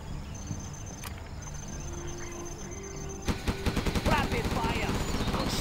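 Gunfire in the video game Command and Conquer Generals Zero Hour, a quiet stretch followed by a rapid burst of repeated shots in quick rhythm, loud and close, with game voices present.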